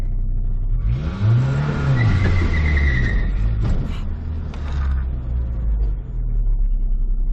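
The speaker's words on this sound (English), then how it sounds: "Alright, now let's see if I can do an actual burnout." A 1996 Ford Ranger pickup with a manual transmission revs hard during a pavement burnout, its engine roaring up and down in loud close surges and rumbling steadily throughout.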